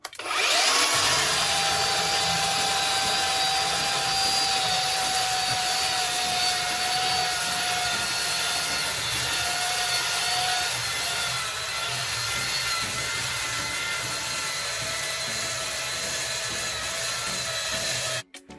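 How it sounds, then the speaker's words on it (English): A belt sander runs steadily against wood for a blanket ladder, a continuous abrasive whirring hum that holds level for the whole stretch before cutting off. "We're hitting it with our belt sander here."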